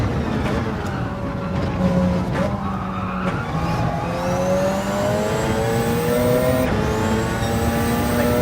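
A race car engine in Gran Turismo 7 revs up through rising pitch sweeps toward about 7,900 rpm, climbing hard and shifting gears, loud and close the whole time.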